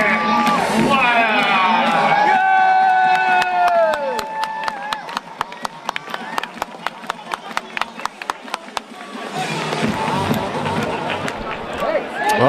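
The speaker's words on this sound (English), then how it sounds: "they got the fans doing the baby shark clap when Playa comes to the plate" A baseball crowd at a HarbourCats game does the baby shark clap, a long run of sharp rhythmic claps in unison after a burst of cheering, then crowd noise swelling back up at the end.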